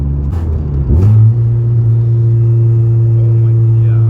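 A 10th generation Honda Civic on pump gas accelerates hard, its engine rising in a loud close rumble and then holding a steady drone, heard from inside the car.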